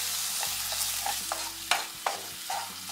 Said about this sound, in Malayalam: ഇത് നല്ല പോലെ ഒന്നും കൂടെ വഴറ്റി കൊടുക്കുകയാണ്.